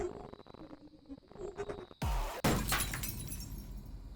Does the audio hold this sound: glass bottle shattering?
yes